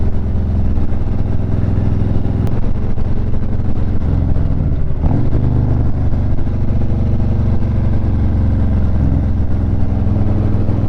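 A stock factory motorcycle engine with no cams, ridden on a cold winter road, a loud steady drone with wind rush and small shifts in pitch, no talk.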